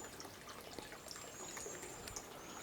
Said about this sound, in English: Here's the spring.